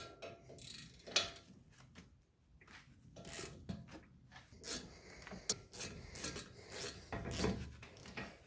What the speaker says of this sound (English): Get yourself an 8mm hex 3/8 with a 3/8 ratchet,